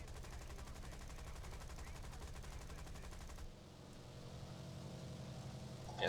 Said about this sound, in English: So the Ford 303 machine guns are just tickling him right now